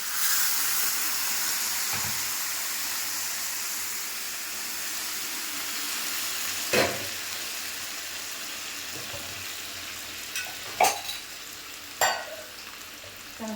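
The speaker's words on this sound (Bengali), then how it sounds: "আমি মশলা ধোয়া মিক্সির বাটিটা ধুয়ে জল দিয়ে দেবো" Water from a rinsed mixer-grinder jar goes into a spiced Bengali curry frying in a pan, setting off a loud steady sizzle and hiss that slowly settles, with a few sharp clinks of a utensil near the end.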